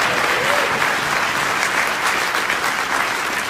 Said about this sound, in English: Yes, that is something to clap about.